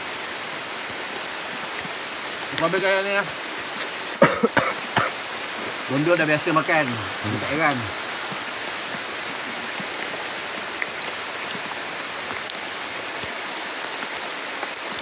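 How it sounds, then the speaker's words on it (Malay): Heavy rain falls steadily at night on a riverside spot where river prawns are being grilled, a constant broadband wash running throughout while people talk briefly in the middle. "Malam lagi kuat hujan"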